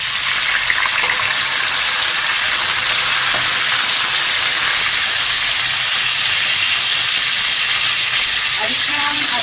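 Pieces of meat frying in a pot of browned onions, giving a loud, dense, continuous sizzle and hiss that stays even throughout with no talking.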